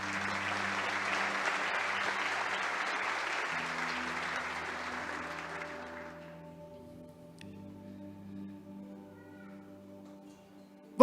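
A church congregation applauds after a sermon, a sustained burst of clapping under soft sustained organ or keyboard chords that fades out around six seconds, leaving the music playing alone.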